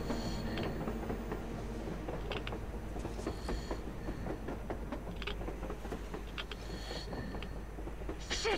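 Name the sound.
train passing on the surface, from the video game Metro Exodus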